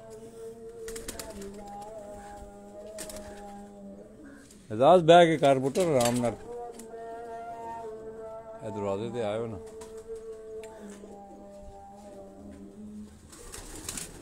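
Flying pigeons from a squad of eleven coo softly in a rooftop loft, their calls intermittent beneath steady conversation among several men.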